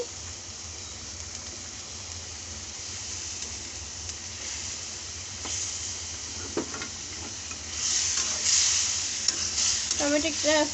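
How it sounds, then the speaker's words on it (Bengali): Tomato stirred into a sizzling fried spice masala for a chickpea curry, with a steady close frying hiss under scraping stirring strokes that grows louder and crackles toward the end, no voice. "এই কষানো মশলার ভিতরে আমরা টমেটোটা একটু দিয়ে নাড়াচাড়া করে নিলাম।"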